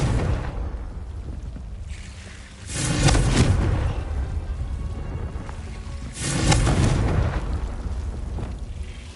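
A Confringo fire spell explodes twice in Hogwarts Legacy, each blast a loud low boom with a roaring rumble that swells and fades over a few seconds, separated by quieter ambient rumble.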